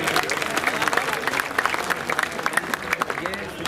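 A crowd claps steadily with scattered sharp hand claps, and a voice carries over the applause.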